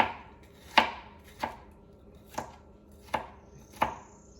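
A knife chops green peppers into fairly large pieces on a cutting board for yellow rice, giving five distinct, well-spaced crisp strikes against a quiet background.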